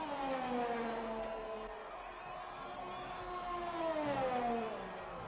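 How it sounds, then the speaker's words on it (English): A Honda racing car engine passes along the track in a racing video game, its whining note steadily climbing and falling through gear changes, fairly quiet and continuous with no pauses. "Let's listen to that Honda engine as he comes through this next part of the track."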